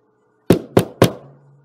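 Three firm knocks on a door ring out close and loud in a quiet room, evenly spaced with a short hollow decay.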